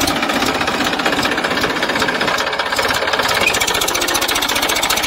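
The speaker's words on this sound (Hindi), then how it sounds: "देखो कितनी ताकत लगा रहे ट्रैक्टर।" A loaded Massey Ferguson 241 tractor laboring up a slope, its diesel engine chugging in a steady, rapid, heavy knock that stays loud and close throughout with no voices.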